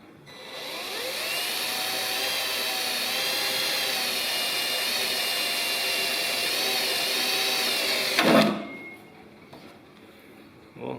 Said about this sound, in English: 3mm drill bit because that's just the size that I need for these screws, so the threads still cut into the sheet metal